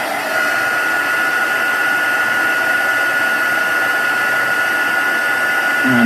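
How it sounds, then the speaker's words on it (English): Embossing heat gun blowing hot air over an art journal page of bleeding tissue art, a loud, constant whirring fan roar holding steady for six seconds with nothing else over it. "now we can hit it with the heat tool"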